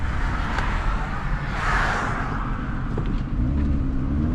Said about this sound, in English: Oh, traffic's coming.